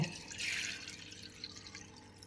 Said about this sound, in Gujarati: એની ઉપર આવી રીતે ગણો રાખવાનો છે અને એમાં આપણે બધા જ આવી રીતે પાણીને નિતારી લેવાનું છે